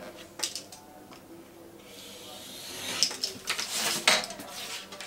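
Rolled paper lottery slips shaken inside a container for a prize draw, quiet at first, then bursts of dry rattling and clattering up close, loudest near the end.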